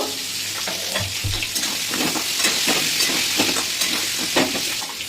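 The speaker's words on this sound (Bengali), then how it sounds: "আলুটা লাল করে ভেজে নেব।" Steady close-up sizzling and crackling of potatoes frying in hot oil, with occasional stirring scrapes, no voices.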